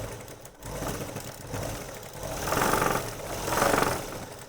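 A sewing machine stitches the hem of a pair of men's shorts, humming continuously with rising and falling surges of speed, close and fairly quiet, with no voices.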